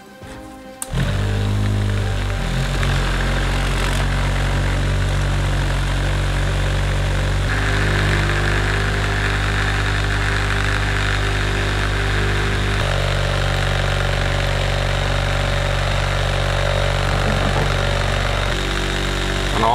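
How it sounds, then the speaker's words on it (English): A vibrating table runs with a loud, steady mechanical hum and buzz while plaster is poured into a Hirst Arts fieldstone tower mold, the drone starting abruptly and holding with slight shifts in tone throughout. "I'm gonna turn on my vibrating table, and while I'm pouring, all the bubbles are gonna come out"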